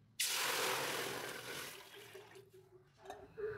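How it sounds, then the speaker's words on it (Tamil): Water gushes suddenly into a pan of browned roasted wheat for a wheat payasam, a loud close rush that tapers into softer bubbling and sizzling. "தண்ணி வந்து கொஞ்சம் அதிகமாகவே சேர்த்துக்கோங்க."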